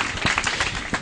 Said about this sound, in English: Everybody clap for Chris.